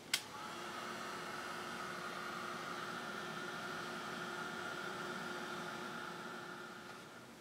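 Steady, close whirring hum of a heat dryer blowing over sprayed Dylusions ink on a white linen page, starting with a brief click and running unbroken without talk.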